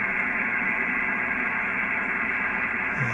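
Steady band noise from an Icom IC-781 HF SSB transceiver from the nineties, a constant loud hiss with a low rumble, unbroken and even throughout with no voices or signals.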